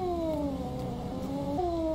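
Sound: angry cat in video game DreadOut 2

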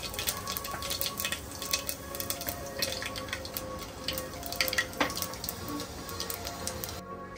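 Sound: panch phoron spices sizzling in hot mustard oil

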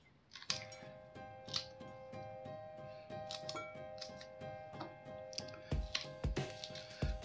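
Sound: cutting green chillies to add to the dish

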